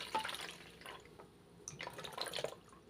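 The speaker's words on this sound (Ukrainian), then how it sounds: "І десь 50 мл води додати" Warm water poured into a container to dissolve oxygen bleach powder, a close, quiet trickle and splash with faint drips, heard alone without talk.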